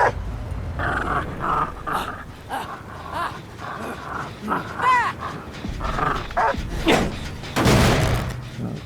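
Hound in the video game Dead by Daylight, low snarling growls and barks mixed with thuds and game effects, irregular bursts over several seconds, with a player talking throughout.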